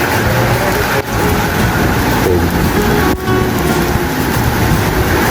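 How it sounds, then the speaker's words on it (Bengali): Heavy rain pouring down in Saudi Arabia, a loud, steady broadband wash of downpour that fills the whole scene without letting up, with two brief dips in intensity. "প্রচুর বৃষ্টি দেখছে, এমন প্রচুর বৃষ্টি নেমে গেছে"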